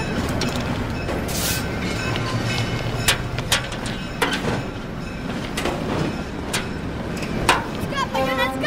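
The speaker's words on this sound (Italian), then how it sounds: "Sta arrivando il treno." A train pulls in with a heavy rolling rumble, sharp metallic clanks and knocks, and a brief squeal of brakes near the end. Voices can be heard in the background.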